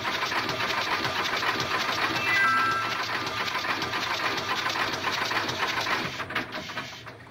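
A boat engine runs steadily at moderate volume, a rapid even chugging that continues without pause before easing slightly at the end.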